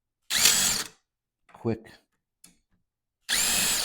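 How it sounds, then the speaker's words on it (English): A power drill bores a pilot hole into pine for a folding utility table, running in two loud, steady bursts with a short spoken word between them. "pilot hole drill."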